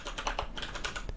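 Rapid typing on a computer keyboard while editing an Android app layout in Kotlin, a steady run of close, crisp key clicks with no talking.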